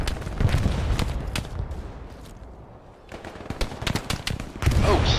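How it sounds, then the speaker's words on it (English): Machine gun fire in the World War II shooter Hell Let Loose rattles out in several sharp bursts, separated by a brief lull, at moderate distance. "Oh snap, somebody's suppressing me. It's a machine gun."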